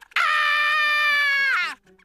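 A cartoon character lets out a single loud, high-pitched scream lasting about a second and a half, sustained and then cut off, with near silence before and after.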